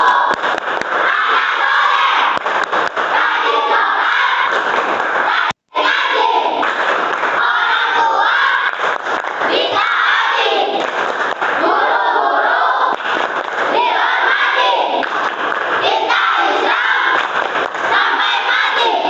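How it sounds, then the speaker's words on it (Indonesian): Schoolchildren in a classroom shout a rhythmic chant while clapping along in the tepuk anak soleh routine. The many young voices are loud and close, with steady clapping and thumps that carry on almost without pause. "Tepuk anak soleh."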